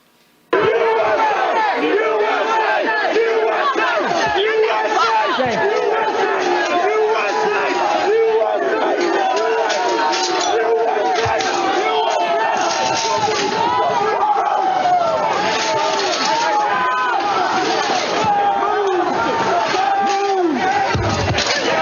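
A dense, loud crowd breaches the Peace Circle during the January 6 Capitol attack, with shouting, yelling and sharp slams and smacks running continuously and close throughout.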